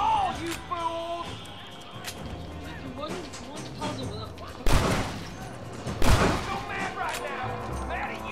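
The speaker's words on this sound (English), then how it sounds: "I really like this shotgun." Shotgun blasts in a Red Dead Redemption 2 firefight: two loud, booming shots a little over a second apart, surrounded by quieter background game sounds and voices.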